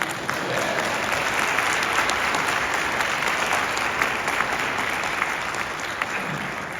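An audience claps at a motivational leadership talk, with continuous dense clapping at even volume and a few sharper claps standing out.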